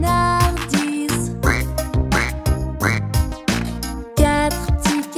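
Cartoon ducks quack repeatedly in rhythmic bursts within a French children's counting song, loud bright quacks set over music.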